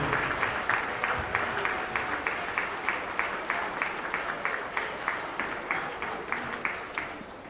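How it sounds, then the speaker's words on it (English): A round of applause fills a high school gym during a boys' holiday basketball classic, steady clapping from a crowd at moderate distance with a regular rhythm throughout. "One more round of applause for these guys."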